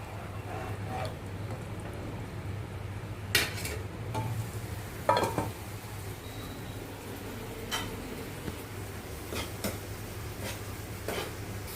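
A lid set onto a pot of cooking lentils: a couple of distinct metallic clanks over a steady low hum, with faint scraping in between and no talk.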